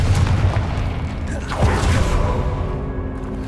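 A Confringo blast spell explodes in a wizarding video game with a loud, heavy boom and rumbling crackle that rises, then fades into a lingering low tail.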